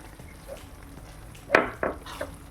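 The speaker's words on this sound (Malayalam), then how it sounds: "ഇനി ഇതിലേക്ക് നമുക്ക് വിനാഗിരി ഒഴിക്കാം" A quiet background of frying, then a sudden sizzling splash as vinegar hits hot oil in a pan, followed by a few more crackling bursts.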